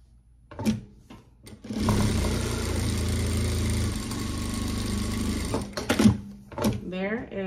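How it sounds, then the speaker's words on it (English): Sewing machine running steadily for about four seconds while top stitching a fabric bag handle, a continuous motor hum with brief speech before and after. "I'm gonna sew down one side and sew down the other."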